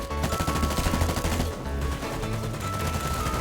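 In FireFront, an online mobile battlefield shooter, rapid automatic gunfire rattles continuously and loudly, with bursts overlapping into a dense battle din.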